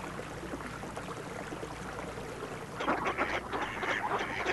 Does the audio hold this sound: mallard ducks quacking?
yes